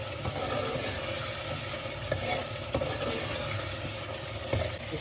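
Chicken pieces hit hot oil and a cooked masala in a pan for aloo gosht, setting off a steady, close sizzle and frying hiss with occasional stirring clatter, no voices.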